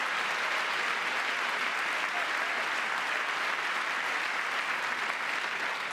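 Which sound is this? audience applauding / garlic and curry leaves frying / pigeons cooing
audience applauding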